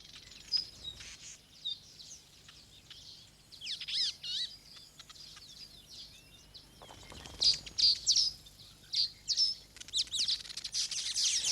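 A young masked weaver chirps while weaving its first nest from split green grass, giving scattered high, thin tweets and twitters that come in short bursts, fairly faint and with no voices.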